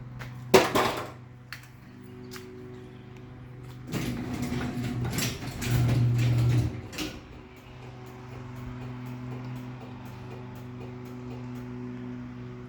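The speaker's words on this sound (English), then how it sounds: "Sounds like the gears might be grinding in it a little bit." Chamberlain 1100 garage door opener on a small door running with a steady motor hum and slight gear grinding, preceded by a few sharp mechanical clunks and louder rattling bursts midway, heard close with no talk.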